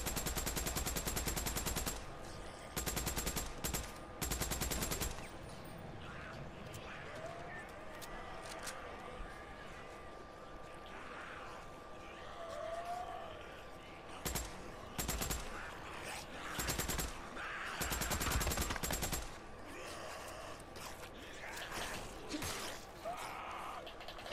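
Bursts of automatic gunfire aimed at a zombie horde on Highway 97 in Days Gone, loud sprays of rapid shots separated by gaps, with someone talking and gasping in between.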